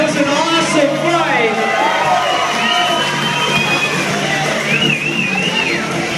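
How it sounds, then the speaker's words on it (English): A loud fight-night crowd roars and cheers steadily for a fighter after a bout, with shouting voices and whoops blending into a continuous wash and no clear individual claps. "Let's give Brock a round of applause, man."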